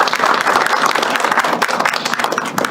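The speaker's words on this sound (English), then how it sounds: "another round of applause for our wonderful speaker" An audience applauds a guest speaker at a World Health Day event in Chicago; dense, steady clapping fills the whole moment at close range with no voices over it.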